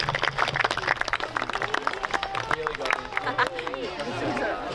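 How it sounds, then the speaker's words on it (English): Guests at a wedding ceremony clap for the couple, a patter of hand claps mixed with cheers and chatter from the crowd, loud and near, fading toward the end. "can we give them a round of applause and their support team"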